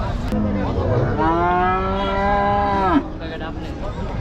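A single long, loud cow moo rising and holding for a couple of seconds, with background chatter and bustle around it at a Qurbani cattle market in Ashulia.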